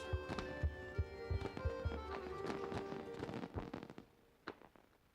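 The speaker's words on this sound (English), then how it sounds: "Fireworks." Fireworks bursting on a narrated documentary soundtrack about the Eiffel Tower, with a string of booming pops and crackles over steady background music and a few sharper bangs toward the end.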